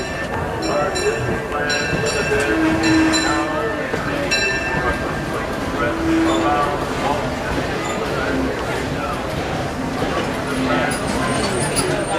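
The Disneyland Railroad train rumbles and clanks steadily with a rhythmic clatter and faint metallic ringing, busy and fairly loud throughout, with crowd voices mixed in.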